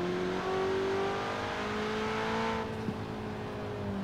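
A car's engine in the racing game Forza Horizon 4 accelerates with a steady rising whine on the motorway, a continuous drone with no talk.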